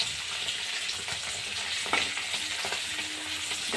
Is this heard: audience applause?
no